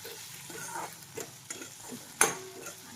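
Crushed chilli thecha and tomatoes fry in a pan, a faint steady sizzle broken by a few soft stirring scrapes and one sharper clack, close by, no speech.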